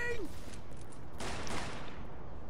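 Video game gunfire: a short, hissing burst of rapid shots in the middle, set against a constant noisy background.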